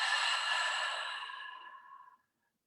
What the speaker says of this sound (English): Let's breathe in here and let it out.